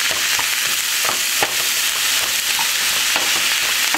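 Frozen vegetables sizzling and frying in a hot pan alongside a mahi mahi dinner, a loud steady crackling hiss with occasional stirring clinks, close and continuous throughout.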